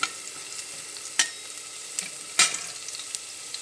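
Garlic and onion frying in a pan for a mixed vegetable dish, a steady broadband sizzle with a few sharp crackling bursts and stirring scrapes, close and moderately loud, with no talking.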